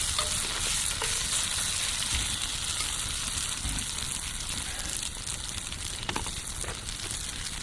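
Hash browns fry in oil and half a stick of butter in a pan over a campfire, giving a loud, steady, dense sizzle that carries on without a break.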